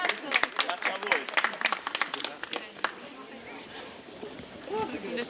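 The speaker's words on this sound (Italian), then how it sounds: "un applauso" An outdoor street crowd at a German market square gives a short burst of applause, sharp claps at first that thin out. Talk and crowd chatter continue underneath and afterwards.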